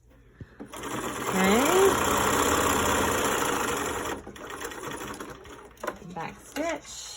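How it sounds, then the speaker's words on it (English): A sewing machine stitches along the edge of a fabric mask, a loud, steady motor whir running close for several seconds before stopping, followed by brief handling sounds and a short spoken word. "So now I'm going to sew along this edge right here"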